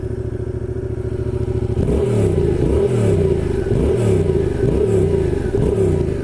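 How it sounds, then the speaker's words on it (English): A 2016 Yamaha FZ-07/MT-07 motorcycle with its stock exhaust idles with a rumble, then revs in a series of about five quick, close, loud throttle blips. "Well, let's hear the exhaust actually."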